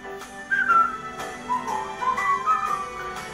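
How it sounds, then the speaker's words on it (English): Pursed-lip whistling of a cheerful melody, a few bright sustained phrases over soft musical accompaniment, clear and close. "Just purse your lips and whistle, that's the thing."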